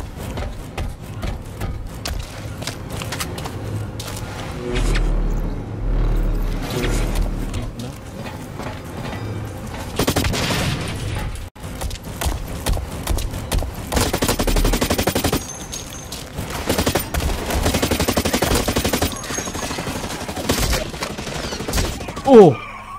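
Bursts of rapid automatic gunfire from the sci-fi shooter Blacklight Retribution crackle in repeated volleys with short pauses between them, set against mechanical clatter and a low background rumble.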